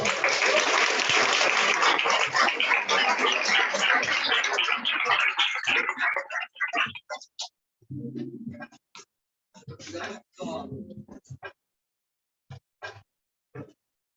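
A literature festival audience applauds to welcome two authors, a steady broad wash of clapping for about six seconds that stops abruptly, followed by scattered voices and small noises in a quiet room.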